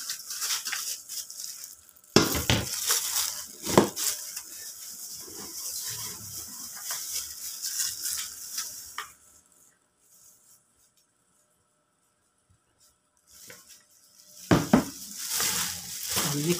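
Kimchi and seasoning are mixed by hand in a bowl, a steady wet squelching and rustling with sharp clatters, a long near-silent pause, then the mixing resumes.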